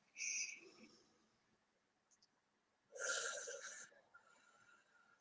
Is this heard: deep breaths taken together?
yes